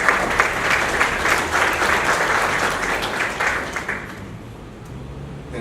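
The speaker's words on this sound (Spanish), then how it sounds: "Démosle un fuerte aplauso por su participación." Audience gives a strong round of applause for a guest speaker at a presentation on cost strategies, steady dense clapping that gradually thins and fades over a few seconds.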